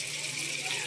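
Water runs steadily from a tap into a sink or bowl to soak frozen pink salmon for miso sinigang, a continuous close hiss of moderate loudness with no one speaking.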